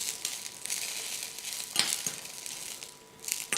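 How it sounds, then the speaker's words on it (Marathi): Green chillies and garlic fry together in a pan, giving a soft crackling sizzle with faint stirring scrapes, close but quiet and with no voices. "लसूण मिरची आता एकत्र 3 ते 4 मिनिटं परतवून घेऊया"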